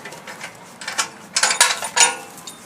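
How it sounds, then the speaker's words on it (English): A fill nozzle being unscrewed and pulled from a propane tank, a series of close metallic clicks, ratcheting rattles and scrapes in irregular bursts. "remove the nozzle from the tank"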